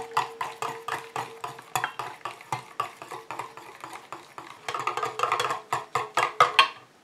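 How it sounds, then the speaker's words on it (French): Coconut water gently stirred into an oil phase for homemade body cream, a steady rhythm of soft scraping strokes of a utensil against a bowl, close and alone, quickening toward the end. "j'incorpore mon eau de coco en mélangeant tout gentiment"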